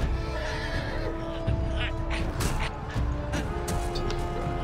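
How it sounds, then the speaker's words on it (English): Horses whinnying loudly in a Game of Thrones video game, several shrill neighs over hoof clatter and scuffling, close and busy throughout. "Oh, horses."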